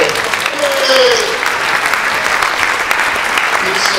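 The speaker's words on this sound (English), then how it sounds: "Give a round of applause for you, Ray." Steady audience applause at a Halloween Houdini séance event in San Francisco, a dense wash of clapping from a crowd that holds at the same level for the whole stretch, with no voices standing out.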